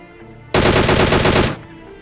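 A single loud, close burst of rapid automatic gunfire in PUBG Mobile lasts about one second, with quiet game ambience before and after.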